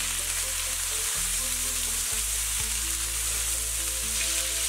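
Drained green beans stir-fried in a wok with pork, scallion and ginger, a loud, dense, continuous sizzle with low tonal hum underneath and no talk.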